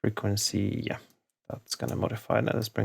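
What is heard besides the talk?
No distinct noise like a dog, phone or traffic.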